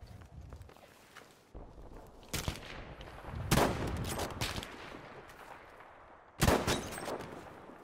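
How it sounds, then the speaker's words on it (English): Gunfire in a video game, heard as a few loud bursts of shots spaced seconds apart, with softer crackling and footstep-like thuds in between. "I'm getting shot from behind."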